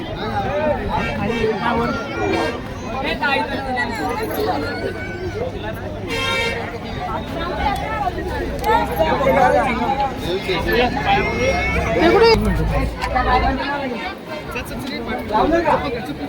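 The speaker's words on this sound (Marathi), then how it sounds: "आज खूप गर्दी, आज फुल." A dense crowd at the Ekvira temple, with continuous overlapping voices and babble close by, vehicle horns tooting now and then, and nearby speakers talking over the hubbub.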